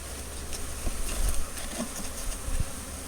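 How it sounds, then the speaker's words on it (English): Honey bees buzz in a dense, steady drone around a caged queen during a package installation outdoors, close up and continuous. "these bees out here are just taking care of her"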